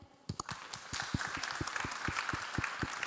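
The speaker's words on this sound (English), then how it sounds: "Applause again." Applause from a symposium audience at an EV-charging event, a steady patter of many hands clapping that builds after a few louder claps at the start, moderately distant and sustained.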